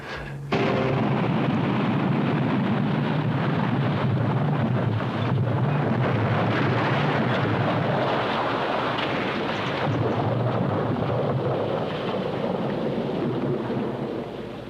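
The detonated 'Little House' TV set erupts in a sudden blast that swells into a loud, sustained roar and rumble, lasting over ten seconds before slowly easing off, with no voices.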